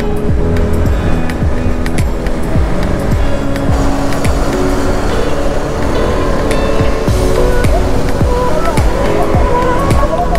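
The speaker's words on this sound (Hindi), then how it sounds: "हमारी रॉकी भाई की गाड़ी।" Engine noise from a car at a Sunday meetup on Marine Drive in Patna, loud and close, with continuous revving and driving noise and busy crowd sound behind it.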